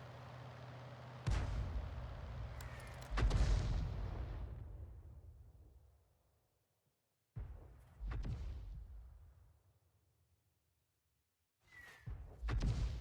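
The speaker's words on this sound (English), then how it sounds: "And the enemy Arty is firing at him." Enemy artillery fires in the tank battle game World of Tanks. Several deep, booming shots sound one after another, each trailing off in a long rumbling decay with near-silence between, and no voices.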